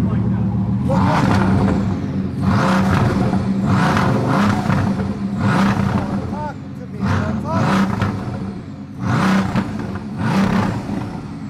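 A Bugatti Veyron engine with a titanium exhaust revs repeatedly, rising and falling in a series of loud bursts with a raspy exhaust note, while people talk over it.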